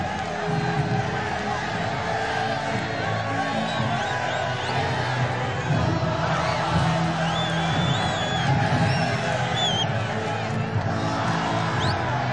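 A crowd of Real Madrid fans fills the Santiago Bernabéu with a continuous roar of cheering, whoops and whistles, steady and fairly close throughout.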